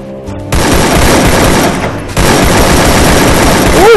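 AK Flaming Dragon gunfire in a shooting video game, loud, close bursts of rapid automatic shots that fill nearly the whole moment after a brief quiet start.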